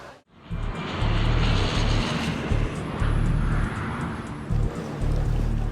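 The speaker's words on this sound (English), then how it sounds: "Heathrow is the world's busiest international airport." Aircraft at Heathrow airport: a loud, sustained roaring jet engine with a low pulsing drone that rises and holds steady, near and dominant, with no voices.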